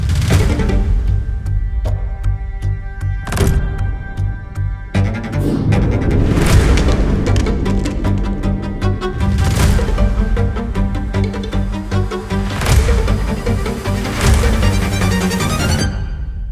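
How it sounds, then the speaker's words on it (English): Shots from a .277 Fury rifle fired at a watermelon, a series of loud sharp booms separated by short gaps, each with a ringing decay, several in close succession. "I'd like to shoot a watermelon."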